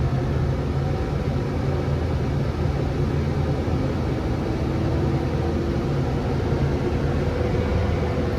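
A tractor engine drones steadily at raised throttle while set up for mowing hay, a loud, continuous low rumble close by with no pauses and no talking.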